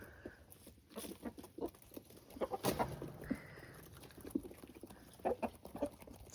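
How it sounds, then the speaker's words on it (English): Chickens peck at mealworms in quick, scattered taps against the ground, with a few soft clucks and rustling mixed in, close by and fairly quiet. "Satisfying listening to them peck away at the mealworms."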